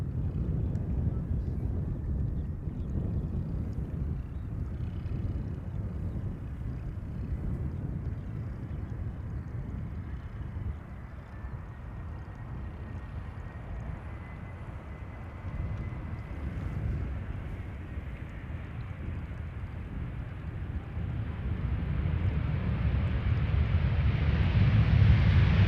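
An airliner landing at Amsterdam Schiphol Airport, a broad low rumble of jet engines and rushing air that holds steadily and swells louder toward the end, heard from outside at a distance with some wind on the microphone.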